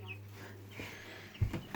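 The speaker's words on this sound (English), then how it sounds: "Pet the birdies. Look at the birdies." Chickens clucking softly in a farm setting, with a low steady hum underneath and a couple of short louder clucks near the end.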